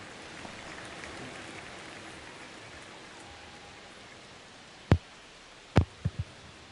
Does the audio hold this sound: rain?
yes